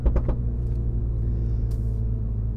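A Mini John Cooper Works with 231 hp and a Pro exhaust rumbles nearby, a quick burst of three or four pops at the start over a steady, loud low exhaust drone.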